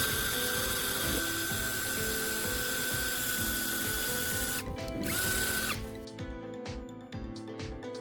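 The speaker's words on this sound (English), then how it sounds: "Then, I drill a hole at the intersection of the two lines." A power drill whines steadily for several seconds, its pitch dipping as it bites into a wooden block, then slows and stops with a few clicks.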